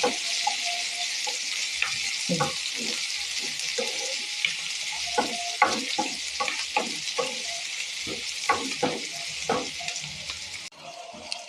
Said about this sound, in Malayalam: വെളുത്തുള്ളി കരിവേപ്പില ഇത് മൂന്നും കൂടെ തട്ടിയിടാം കണ്ടോ നമുക്കൊന്ന് ഇതെല്ലാം ഒന്ന് മൂപ്പിച്ചെടുക്കാം